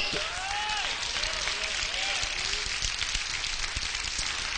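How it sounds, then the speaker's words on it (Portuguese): A church congregation applauds at a moderate, steady level, with voices calling out over the clapping and a faint murmur underneath. "Não, aplauda Jesus de verdade"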